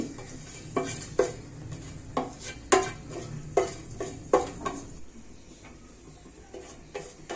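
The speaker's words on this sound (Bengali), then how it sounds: "এগুলো একটু নেড়ে ভেজে নিচ্ছি" Whole cloves, a halved bay leaf and black peppercorns being stirred in a hot pan for cauliflower roast: a series of sharp spoon scrapes and clinks against the pan every second or so over a faint low sizzle, with no talking.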